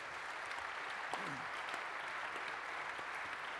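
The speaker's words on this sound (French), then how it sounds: "c'est Jean Lassalle, on peut l'applaudir chaleureusement." A conference audience at a political plenary session applauds warmly, with steady, dense clapping at a constant level that fills the whole stretch, and a faint voice briefly surfaces underneath.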